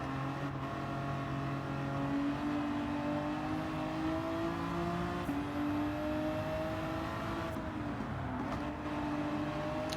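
A race car engine in Gran Turismo 7 holds a loud, continuous whine that rises and drops as it shifts gears, with tire and track noise mixed in during a close race.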